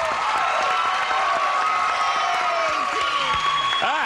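Studio audience at the Match Game-Hollywood Squares Hour game show claps and cheers loudly and steadily, with whoops and excited voices mixed into the sustained applause.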